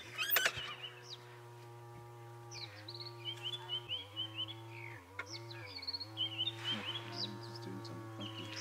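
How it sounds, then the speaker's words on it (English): Little bee-eater and other birds calling on a sunrise safari drive, a busy mix of sharp chirps and twitters at moderate distance over a steady low vehicle engine hum. "And so we have a little bee eater over here who is fluttering away."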